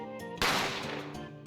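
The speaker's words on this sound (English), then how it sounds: "Gunshots rang out." A single sharp gunshot bursts out in The Great Ace Attorney Chronicles video game, a sudden loud crack over soft game music that decays into a brief echoing tail.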